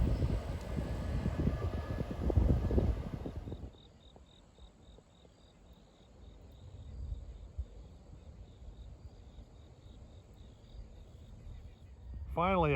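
A long Norfolk Southern freight train with just two engines rumbles past on the Pittsburgh Line in autumn, a loud clattering roar that drops away into a distant low rumble, with crickets chirping steadily and a horn-like tone at the end.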